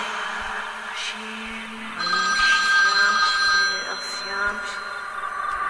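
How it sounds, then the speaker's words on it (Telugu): A mobile phone that had been switched off rings in a quiet room, its electronic ringtone sounding as steady tonal bursts from about two to four seconds, with softer background noise before and after. "ఆఫ్ అయిన ఫోన్ మళ్ళీ రింగ్ అవుతుందేంటి?"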